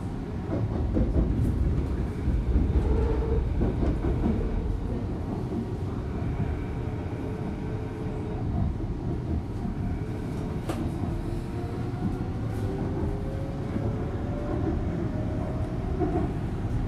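A Vancouver SkyTrain Canada Line metro train bound for Richmond-Brighouse runs steadily with a loud, continuous rumble and rattling, and a faint rising whine of the motors partway through.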